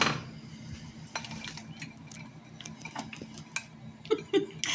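Chopped vegetables, including pepper, are tipped into a cooking dish, making scattered clattering and tapping against the dish over a low background hum. A few sharper knocks come near the end.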